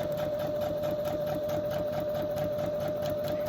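A sewing machine runs steadily, stitching book-page journal insert pages with a continuous mechanical whir and a strong steady hum, alone with no talking.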